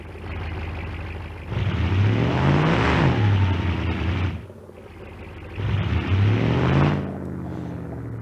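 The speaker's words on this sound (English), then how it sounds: "Now, I actually need to do this in order for the car to do a burnout." A car in the BeamNG.drive driving simulator revs hard for a burnout, two long loud surges of rising engine roar separated by a brief drop, the engine note climbing and falling in each burst.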